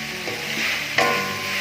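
Chopped green chilies go into a hot pan for Mongolian chicken, producing a steady close sizzle with a sharper burst of frying as they hit the oil, alone without talk.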